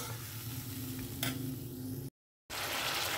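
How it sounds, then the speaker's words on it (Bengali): Spice paste sautés in a pan with a splash of water, giving a close, steady sizzle with a brief scrape of stirring, then a short total dropout before the sizzle resumes. "দিয়ে দিলাম একটুখানি জল, দিয়ে মশলাটাকে ভালো করে কষিয়ে নেব।"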